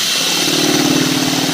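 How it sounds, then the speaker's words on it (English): Power drill boring a hole with a 1-inch paddle bit, a loud steady whirring drone held throughout at close range, with no talk. "you take your 1-inch paddle bit, just right there, like that. Okay? Then you go ahead and drill your hole"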